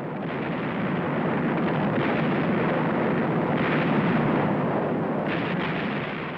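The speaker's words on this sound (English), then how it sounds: "The largest invasion fleet since the Second World War bombards the port of Incheon." Naval invasion fleet shelling the port of Incheon at dawn in September 1950, heard as a dense, continuous roar of rumbling bombardment with overlapping blasts, loud and sustained throughout, with no voices.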